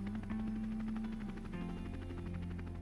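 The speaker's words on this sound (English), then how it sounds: "Just the sound of the helicopter" A search-and-rescue helicopter working a steep mountain slope drones with a low, steady rotor and engine hum, faint and distant-sounding, with no talk over it.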